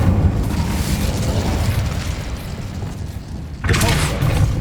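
Incendio fire spell cast in Hogwarts Legacy, a loud rumbling blast with low booming roar, a brief dip, then a fresh crackling burst of flame near the end.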